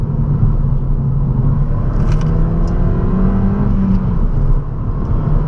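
A Ford Fiesta with a 182 hp engine drones and revs while driving hard, a steady loud rumble with rising whine as the revs build, heard from inside the car with no talking.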